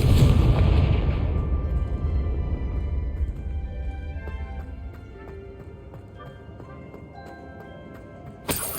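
A Confringo blasting curse in the Hogwarts Legacy video game sets off a deep rumbling explosion that fades slowly over several seconds, followed by faint ambient game sounds and a sharp final crack.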